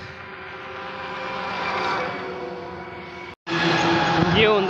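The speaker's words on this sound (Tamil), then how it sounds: "ஆர்மி வேன் போயிட்டுருக்கு, வரிசையாக போகுது" A line of army vans drives past on the road in a continuous close roar of engines and tyres, with a voice heard over it and a brief dropout before the noise resumes.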